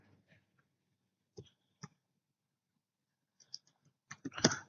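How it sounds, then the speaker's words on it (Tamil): Keys clatter on a computer keyboard as text is entered for a Fusion text node in DaVinci Resolve, arriving as a few scattered taps and then a quick close burst of typing at the end, with no one talking. "நான் வந்து சப்ஸ்கிரைப் டு S2V தமிழ் அப்படின்னு சொல்லி நான் டைப் பண்ணிக்கிறேன்."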